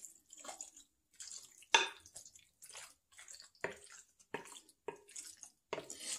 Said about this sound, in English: then we're gonna crack the eggs in here